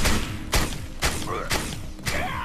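Shotgun blasts in the sci-fi shooter Defiance: five heavy, booming shots spaced about half a second apart, each followed by a short decay, with faint game noise between them.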